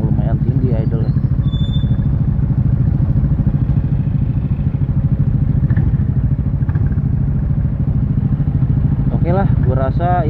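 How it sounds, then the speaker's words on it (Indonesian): A Kawasaki Estrella 250 motorcycle engine idles steadily at a fairly high idle, a loud continuous low rumble throughout, with a person talking over it now and then. "Tuh dia idle di 1500 sampai 1800,"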